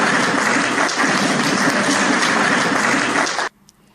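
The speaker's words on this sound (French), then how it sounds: "Faure Sozimna Nyazingbe, dans un tonnerre d'applaudissements." Thunderous applause fills an award ceremony where a trophy goes to the president, a dense, loud, steady clapping from a large crowd that stops abruptly after about three and a half seconds.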